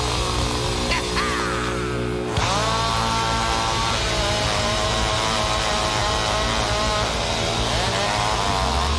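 A chainsaw runs steadily at close range, loud and buzzing, with a brief dip in pitch early on before settling into a constant drone.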